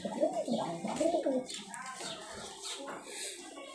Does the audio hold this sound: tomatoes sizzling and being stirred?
no